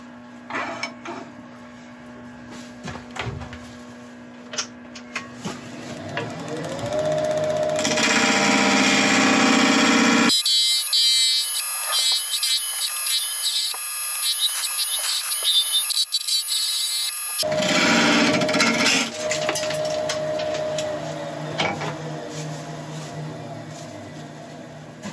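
A woodturning tool cuts into brittle, shattering epoxy on a spinning lathe, a loud harsh scraping and whirring that runs in long sustained stretches after a quieter opening of clicks and motor hum.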